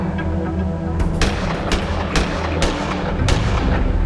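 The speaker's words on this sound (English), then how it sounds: "Press space to fire. Good. Now try using up the rest of your ammo." A weapon fires during practice in the Gemini Rue video game, a series of sharp, loud shots, about seven or eight of them, spaced unevenly over a low ambient hum, with no talking.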